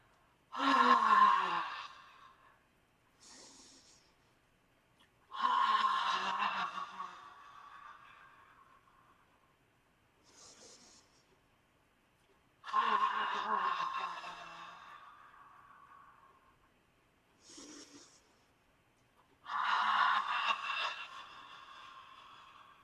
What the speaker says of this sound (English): we're going to inhale through the nose, exhale with